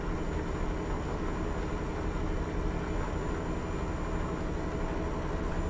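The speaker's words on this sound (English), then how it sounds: "It sounds like a train just went underneath us or something." A train rumbling past underneath in Euro Truck Simulator 2: a continuous, even low roar with steady rolling noise that neither rises nor fades, heard alone without speech.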